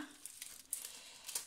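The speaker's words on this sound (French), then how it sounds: "Pour éviter le bruit du plastique." Plastic packaging crinkles faintly while being opened, with soft scattered rustles and a few crisp crackles.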